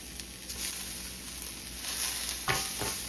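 Vegetables sizzle steadily in a hot pan as they start to scorch on the bottom, a constant close frying hiss with a couple of brief stirring scrapes near the end.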